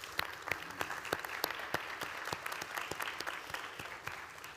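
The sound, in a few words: round of applause at a graduation ceremony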